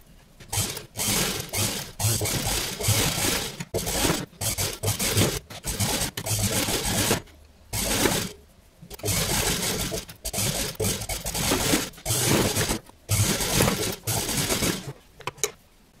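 A sewing machine stitches seams on a ball gown with jacket, running in loud bursts of rapid mechanical whirring separated by short pauses, up close with no talk.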